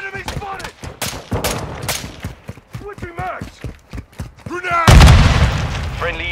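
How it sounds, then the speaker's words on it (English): A grenade explodes in a Modern Warfare 2 match, a loud close boom near the end that follows rapid bursts of gunfire, with game voices shouting over the shooting. "Grenade!"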